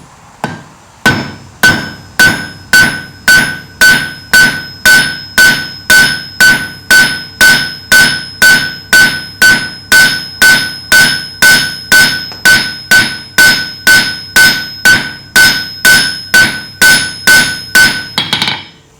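A hammer strikes a hot steel leaf on an anvil, about thirty loud ringing metallic blows at a brisk, even rhythm, each with a bright bell-like ring, close and with no talk.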